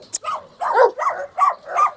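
A German Shepherd and other dogs let out a run of barks and yips, five or six short bursts close to the microphone, with no talk over them.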